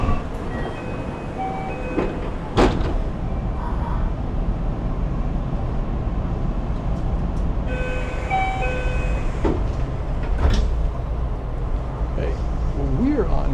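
A JR train in Nara pulls into the station after heavy rains, with a steady low rumble of rail noise, brief metallic clacks and squeals, and speech heard over the station sounds.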